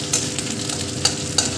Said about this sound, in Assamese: এতিয়া মই আদা নহৰু পেষ্টখিনি ইয়াতে দিছোঁ, অলপ ভাজি ল'লোঁ